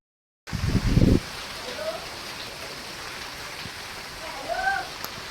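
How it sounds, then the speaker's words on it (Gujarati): Heavy rain pours steadily outdoors in a constant broad hiss, opening with a short loud burst of nearby sound and later a few faint voices. "ફૂલ વરસાદ ચાલુ થઈ ગયો છે"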